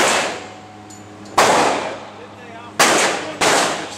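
Three sharp, loud gunshots ring out at a shooting range, one near the start of the second half and two close together near the end, each with a quick decay and range echo.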